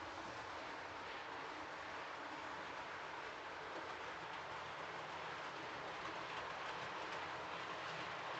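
A steady, continuous rumble and hiss of a train locomotive running in a video game, holding an even level throughout with no speech.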